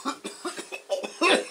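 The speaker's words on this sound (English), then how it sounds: "and then the coughs come" A person coughs after smoking, a run of about six short, rough coughs in quick succession, close and loud, ending in a harder, longer hack.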